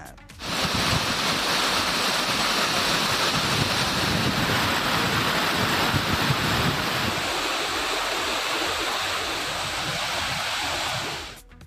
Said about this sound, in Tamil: மேகமலை அருவியில் வெள்ளப்பெருக்கு ஏற்பட்டுள்ளதால் சுற்றுலா பயணிகள் அருவியில் குளிக்க 7வது நாளாக தடை விதிக்கப்பட்டுள்ளது